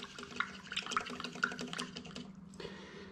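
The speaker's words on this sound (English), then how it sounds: "I'm going to rinse it off here in some clean water." Water splashes and trickles as a crusty, tarnished war-era nickel is rinsed in clean water after poor man's electrolysis, with close, steady sloshing, a few brighter drips, and a short pause near the end before the running water resumes.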